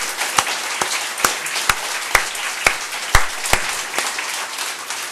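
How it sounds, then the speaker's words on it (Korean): Sunday church worshippers applaud in a steady wash of clapping, punctuated by loud, regular close claps roughly every half second. "우리 영광의 박수 한번 치십시다."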